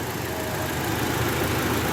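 A 2013 Toyota Hilux engine idles with a slight misfire, a steady close rumble with a faintly uneven pulse running through the low hum and no voices over it.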